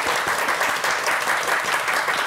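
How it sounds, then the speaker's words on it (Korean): Studio audience applause breaks out at a Korean morning talk show as a guest lecturer is welcomed, a dense, steady wash of clapping that holds loud and even from start to finish with no talk over it. "박수 한번 부탁드립니다."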